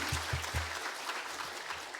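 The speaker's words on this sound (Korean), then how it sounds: "所以给大家一个最热烈的鼓掌，鼓励一下。" Church congregation applause during a Sunday worship service, a broad steady wash of clapping with a few louder thumps near the start, moderately loud and continuous across the short stretch.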